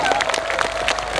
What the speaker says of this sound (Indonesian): Boleh tepuk tangan untuk Indonesia.